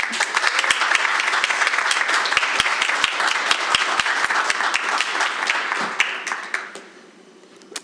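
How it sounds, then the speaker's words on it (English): An audience at a board meeting gives a senator a round of applause, dense crisp clapping with some sharp individual claps standing out near the mic, going strong for about six seconds before quickly tapering off. "Can we give her a round of applause?"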